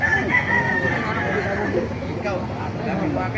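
A rooster crows repeatedly at a busy chicken market in Baliuag, its drawn-out calls rising over steady crowd babble and nearby people talking.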